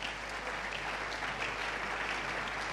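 Congregation in church applauding steadily throughout, a dense, continuous wash of clapping from many hands at moderate level with no voices breaking through.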